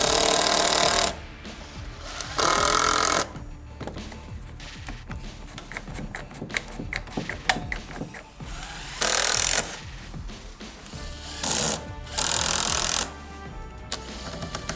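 Screws being driven with a power drill into the back of a homemade free-standing wooden target, several loud whirring bursts of a few seconds each, separated by quieter handling and tapping of wood.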